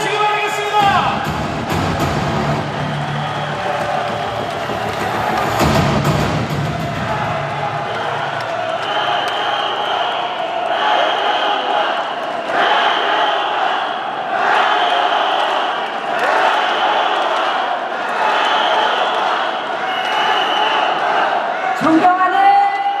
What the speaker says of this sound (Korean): 박수로 맞이해주시기 바라겠습니다